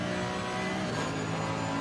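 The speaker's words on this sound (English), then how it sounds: "Listen to the engine" A GT3 race car engine at Donington Park in a racing video game, a loud, steady drone of sustained high revs held throughout with no lift.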